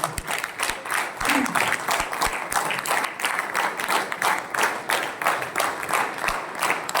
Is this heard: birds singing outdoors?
no